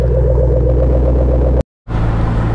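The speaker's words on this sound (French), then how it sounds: "Et le bruit Ford." A Ford Mustang GT500 engine idles with a loud, steady, deep rumble close by, cutting out abruptly for a moment before the throbbing resumes.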